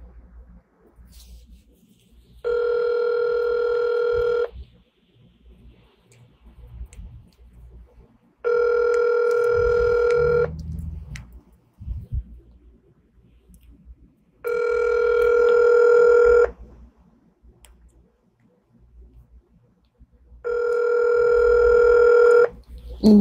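An unanswered phone call rings back as a ringback tone: four long, steady tone bursts about two seconds each, separated by gaps of low background noise and faint sounds.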